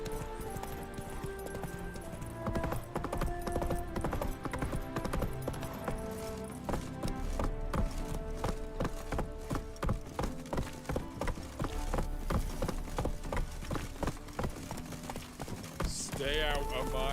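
Rhythmic hoofbeats of a galloping horse in The Witcher 3 video game, a steady fast clip-clop under game music and effects, with someone talking over it.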